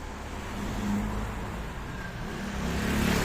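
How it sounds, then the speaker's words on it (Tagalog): A car passes along a wet street on a rainy day, a moderate engine and tire rush rising and falling against steady rain and street ambience. "ayan, parating na sasakyan."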